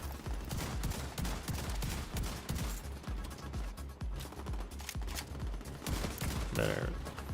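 Rapid bursts of gunfire from the shooter video game The Division 2, dense and continuous with thumping low impacts, moderately loud.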